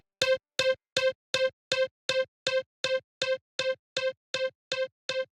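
A short sound is fed through a delay with feedback set to 95 percent. The echoes repeat in a fast, even train of about fourteen hits and barely lose volume, so the delay sounds near-endless.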